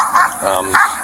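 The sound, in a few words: dog barking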